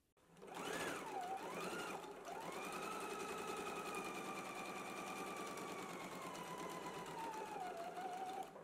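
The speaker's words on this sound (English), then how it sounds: "Let's go ahead and stitch this together now using a 5/8 of an inch seam allowance." Home sewing machine stitching a lining to the main fabric with a 5/8-inch seam allowance, a close, steady whirring run that starts quickly and holds a constant pace, with slight speed shifts near the end.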